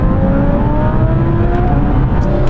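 A 900hp Porsche 911 Turbo S, a 1000hp R8 and a 1000hp R35 GTR launch together in a drag race, their engines roaring loud and close in one dense, unbroken blast as the pitch climbs steadily.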